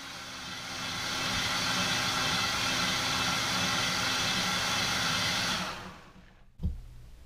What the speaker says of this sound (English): Your total blend time should be no more than 1 minute.